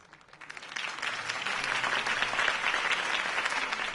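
Crowd applause swells after a campaign speech at a political rally in Batman The Telltale Series, a dense wash of many hands clapping that rises within the first second and holds steady and loud to the end.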